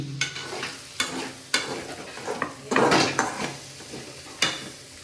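Dishes and pots clatter and clank in irregular bursts, with sharp metallic knocks and scraping over a steady background of running activity.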